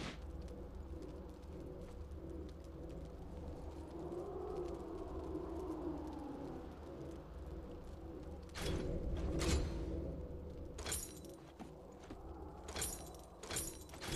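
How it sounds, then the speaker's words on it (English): Quinn's bird Valor calling in the League of Legends video game, brief bird cries rising over a steady bed of game music and ambience, with a few sharp bursts near the end. "Sometimes I swear that bird is just showing off."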